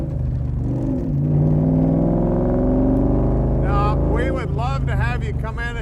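A Ford Coyote V8 in a Backdraft Shelby Cobra replica revs loudly and steadily, its tone climbing through the clip, with someone talking over the engine toward the end.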